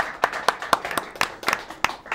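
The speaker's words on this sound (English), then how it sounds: "Applause." A small studio audience gives scattered, sparse clapping, a few distinct hand claps in loose rhythm rather than a full ovation.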